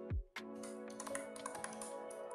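Short burst of typing on a computer keyboard in a terminal, a few quick close key taps following a brief low thump, quiet and without talk.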